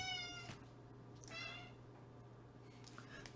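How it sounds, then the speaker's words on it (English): A cat meows a few times, short and faint, over a low steady hum in a quiet room. "That's a cat."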